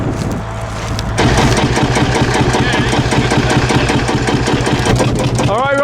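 A 1953 Field Marshal 3A vintage tractor engine idles close by at a rally, a loud steady low-pitched chugging throb after a brief quieter moment, with people talking over it.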